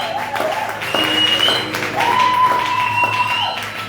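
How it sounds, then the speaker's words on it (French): A church congregation claps for a visiting pastor, a steady patter of many hands with a few louder taps, a voice or tone briefly rising above it. "Vos acclamations sont faibles."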